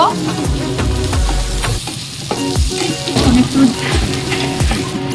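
Ginger-garlic and cumin paste sizzles loudly in frying meat, with a continuous close crackle and a rhythmic scrape and clatter of a stirring spoon against the pot.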